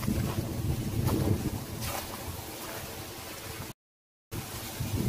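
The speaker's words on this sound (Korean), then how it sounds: "바람이 작살이요, 작살." Strong gusty wind roaring steadily into the microphone outdoors on a hot, dry spring day, loud buffeting with a brief dropout near the end.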